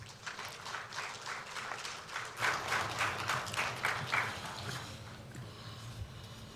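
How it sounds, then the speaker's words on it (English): Faint, distant applause from the gathering as President Mahama is invited to speak at the swearing-in of new security chiefs, a soft steady patter of many hands lasting several seconds. "A round of applause."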